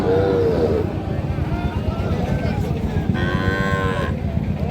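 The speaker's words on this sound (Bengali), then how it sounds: "ষাঁড় বাচ্চা" A bull calf moos repeatedly at a crowded cattle market in Raniganj, several drawn-out calls near and clear over a constant murmur of people talking and trading.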